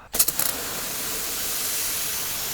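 Compressed air blasts dirt out of a car's wheel arches, opening with a few sharp bursts before settling into a steady, loud hiss.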